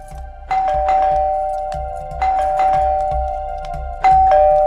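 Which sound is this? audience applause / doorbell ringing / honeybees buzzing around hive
doorbell ringing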